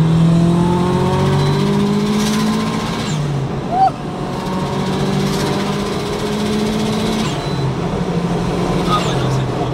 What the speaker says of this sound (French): une caisse à l'ancienne qui gueule et qui donne des vraies sensations comme là maintenant